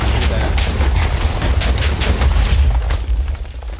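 Explosions in Minecraft during play of the Stoneblock 2 modpack, a loud, continuous rumbling boom with crackling bursts that persists for the whole stretch and dies down slightly near the end.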